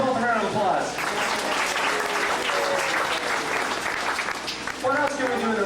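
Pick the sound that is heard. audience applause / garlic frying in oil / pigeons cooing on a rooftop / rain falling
audience applause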